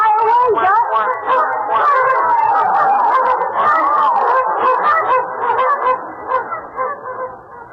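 Radio sound effect of a duck honking and flying away, with loud, continuous, close honking that gradually thins out and fades toward the end.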